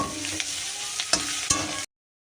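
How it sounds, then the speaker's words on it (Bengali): Egg stir-frying in a pan before pasta is added: a steady close hiss of sizzling runs throughout, broken by a few sharp scrapes and clacks of stirring, then cuts off abruptly. "আমি ডিম দিয়ে দিয়েছি এবার এটাকে সুন্দর করে একটু ভাজা ভাজা করে নিই"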